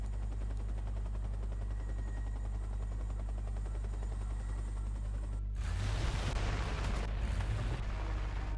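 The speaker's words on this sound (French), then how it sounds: "j'adore les hélicoptères." Video game helicopter with a steady low rotor thump and whine, joined after a few seconds by loud bursts of gunfire and explosions over the drone.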